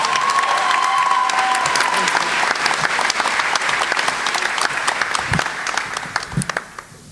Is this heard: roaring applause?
yes